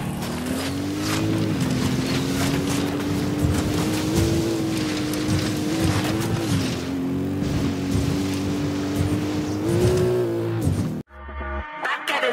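A motorcycle engine in Ghost Recon Wildlands, set in the San Mateo area, drones loudly and steadily for about ten seconds with slight pitch shifts as it revs, then cuts off abruptly.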